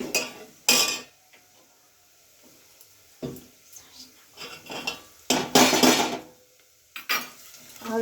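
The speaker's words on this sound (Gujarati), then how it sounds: "જો એ બધા મસાલા સડે એટલે એને હલાવવાનું" Spices for dhokli are stirred in a metal pot, a spoon clanking and scraping in several loud, irregular bursts separated by quieter pauses, with a faint sizzle.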